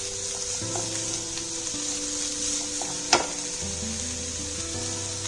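Chopped onions and carrot sautéing in a pan give a steady sizzle, with a spoon stirring and one sharp knock on the pan partway through; a low hum runs underneath and no one talks.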